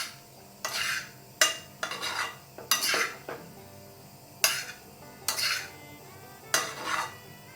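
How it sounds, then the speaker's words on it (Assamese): A spoon stirs a pot of grated-ginger vegetable curry, with about seven separate scraping strokes against the metal spaced by short pauses. The sound is close and moderately loud, with no voices. "গোটেইখিনি ভালদৰে আকৌ অলপ লৰাই দিছোঁ"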